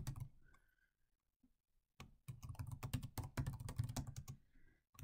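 Fast clacking of a computer keyboard as code is typed, a short burst, a pause, then a dense, steady run of keystrokes up close.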